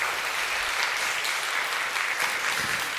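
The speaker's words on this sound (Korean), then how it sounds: "우리 한번 우리 박수 한번 해드렸으면 좋겠습니다." A church congregation applauds during a Sunday worship service, a dense, steady patter of many hands clapping at an even level throughout.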